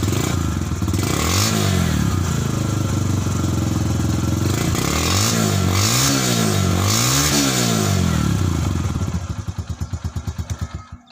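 A Yamaha YBR 125 G motorcycle's exhaust runs loud and close, revving up and down in several rising and falling sweeps, then settles into a rhythmic, pulsing idle near the end.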